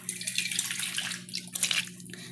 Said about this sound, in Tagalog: Hugasan mo ng tubig